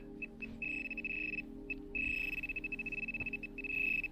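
A Garrett Ace metal detector sounds repeated high, steady electronic tones in bursts of varying length, some short blips and longer sustained beeps, close and clear over a quiet outdoor background with no talking.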